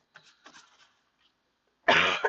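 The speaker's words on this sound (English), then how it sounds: "I don't cough all day except for when I'm live, then I always want to cough" One sharp, loud cough bursts out near the end, after a few faint breathy throat sounds, in a quiet indoor setting during a live broadcast.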